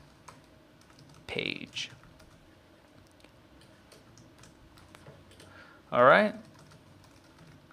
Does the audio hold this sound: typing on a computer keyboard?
yes